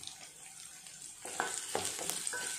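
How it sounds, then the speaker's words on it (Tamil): Onion, garlic and green chillies sauté in a pan, with a soft steady sizzle at first, then louder scraping stir strokes and crackling in the second half, close by with no talking. "சேர்த்து இதுவும் நல்லா வதக்கி விட்டுடலாம்."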